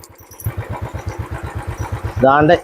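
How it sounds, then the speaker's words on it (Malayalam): Motorcycle engine running near Mankulam, with a steady pulsing putter and a louder rev toward the end. "ഞാനിപ്പോൾ അങ്ങോട്ടേക്കാണ് വണ്ടി എടുത്ത്."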